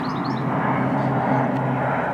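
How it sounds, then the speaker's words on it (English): An aeroplane drones steadily overhead on a quiet day outdoors, a continuous engine rumble with faint birdsong chirps above it. "wouldn't you know, I'm out in a quiet day enjoying the bird song, and here's an aeroplane."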